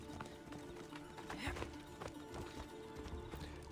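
Horse hooves clip-clop at a quick, uneven gait in the video game Assassin's Creed Odyssey, set in a city, with sharp hoof strikes over busy background game noise and what may be a whinny.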